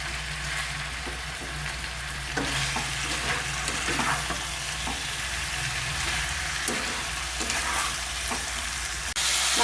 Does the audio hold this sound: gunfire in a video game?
no